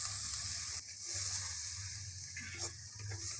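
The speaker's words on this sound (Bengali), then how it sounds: "মশলাটাকে ভালো করে কষে নেব।" Spice masala with chopped tomato, ground coriander and sugar frying in a pan, a steady close sizzle with occasional stirring scrapes.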